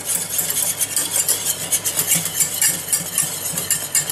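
A thickening mixture is stirred steadily in a pan while it comes up to its first boil, with continuous scraping and swishing and a faint low hum underneath, no talking.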